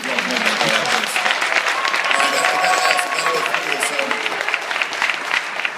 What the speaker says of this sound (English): as people make comments that we have to keep the clapping and the outbursts to minimum